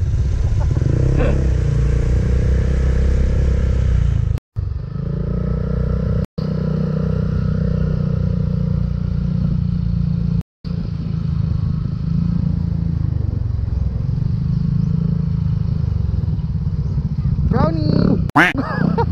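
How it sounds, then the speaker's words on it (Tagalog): A motorcycle engine runs steadily and loud up close, a low continuous drone broken by a few brief dropouts, with people talking over it. "Ganda ng tunog ng motor mo ha, bagay."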